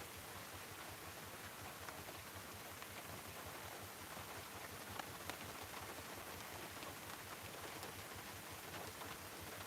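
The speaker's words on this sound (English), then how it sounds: "It is absolutely chucking it down." Heavy rain pours down steadily as an incoming storm arrives, a dense, unbroken hiss of drops drumming on surfaces, fairly loud and constant throughout with no voices.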